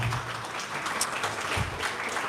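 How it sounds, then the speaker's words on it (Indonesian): Applause from an audience welcoming a guest teacher at a spirituality talk, a steady moderately loud patter of hands lasting a couple of seconds with no voices over it. "Boleh kita tepuk tangan dulu buat Pak Wayan Mustika."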